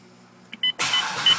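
A 2005 Corvette C6 with a shifter problem powers up with electronic chimes and a whirring electric motor, a short buzz and beep followed by a loud sustained broadband rush of systems cycling, close by with no talk.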